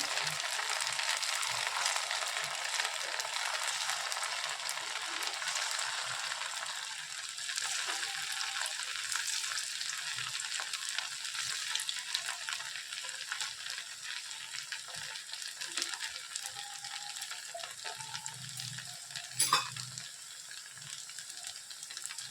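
Leftover-rice kurkure snacks deep frying in oil over low heat, a steady moderate hiss of bubbling oil with occasional soft clicks and stirring sounds, and a sharper knock near the end.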